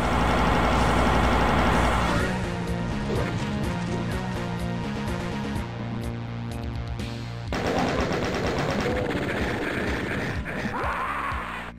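Rapid chaingunner gunfire in Final Doom: The Plutonia Experiment, a dense loud stream of shots over game music and explosions, continuing in bursts with a brief break before resuming.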